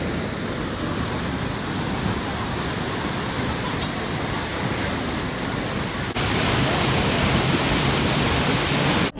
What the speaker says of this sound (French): le 2e jour, on est allé voir une cascade